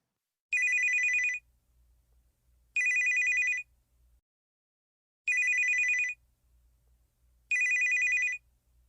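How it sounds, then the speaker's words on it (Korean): A mobile phone rings alone in near silence as an audiobook sound effect, four identical bright electronic bursts, each about a second long, evenly spaced with short quiet gaps between them. "M의 핸드폰이 울렸다."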